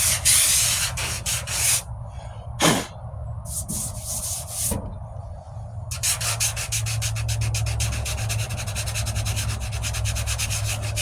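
Bondo filler on the passenger-side wheel arch of a 1998 Ford Ranger is hand-sanded in close, rasping strokes, bursts of rubbing with brief pauses, then a fast, steady back-and-forth rhythm.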